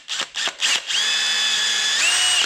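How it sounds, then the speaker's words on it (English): A power drill bores a small hole in hard plastic on a 2011-2019 Ford Fiesta front door, with a few short bursts and then a sustained high whine that rises in pitch, close and loud. "I'm just gonna drill a small little hole there"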